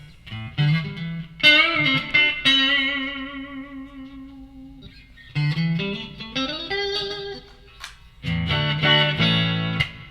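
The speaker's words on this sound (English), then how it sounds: "And then here's some reverb in there." An electric guitar plays through a Marshall DL5C amp with reverb added. Several sustained chords and notes ring out with sliding pitches and a lingering wash between phrases, close and clear, with no talking.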